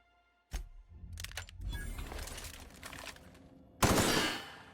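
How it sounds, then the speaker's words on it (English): Three-round burst fire from an assault rifle in the video game The Outer Worlds: a sharp shot, then a cluster of rapid cracks with rattling mechanical noise, and a final loud burst, close and punchy. "Oh, no, it's an assault rifle. Oh, it's a 3 burst."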